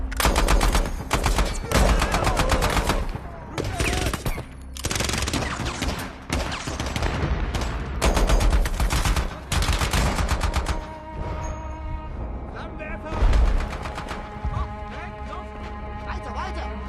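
Heavy gunfire in a Russian war movie action scene, loud bursts of automatic and rapid machine-gun fire in repeated volleys, with shouted voices between them.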